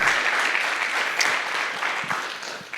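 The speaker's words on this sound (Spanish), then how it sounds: "Vamos, dale un aplauso a la gloria del Señor." A church congregation claps together in dense, sustained applause at a Sunday service, heard from within the room and fading slightly toward the end.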